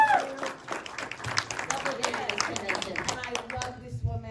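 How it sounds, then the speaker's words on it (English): At a horror convention panel in Milwaukee, the crowd claps in a light, uneven patter while voices murmur and talk continues underneath. "let's applaud Summer."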